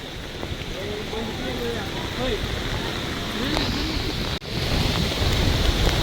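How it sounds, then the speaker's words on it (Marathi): Rain falls steadily at Thoseghar waterfall, a dense continuous hiss with rushing water beneath, while birds chirp faintly in the background. "पाऊस पडतोय."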